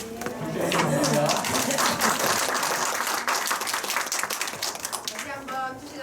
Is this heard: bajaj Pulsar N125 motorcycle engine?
no